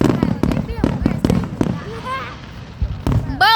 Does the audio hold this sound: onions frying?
no